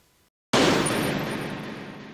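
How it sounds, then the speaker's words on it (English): A phone hung up on a rooftop in the TV show 24, sounding like a Metal Gear Solid gunshot: after a brief silence, one sudden loud blast cracks out and decays slowly over about a second and a half. "when Walsh hangs up, on the roof, it kind of makes the Metal Gear Solid continue gunshot sound"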